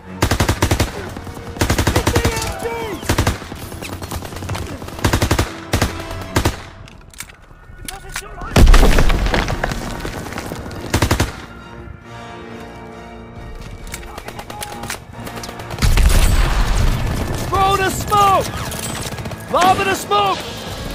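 Machine gun fire and shelling in a Call of Duty WWII D-Day beach battle, with rapid bursts and heavy booms that come and go across the scene while soldiers shout orders over the fighting.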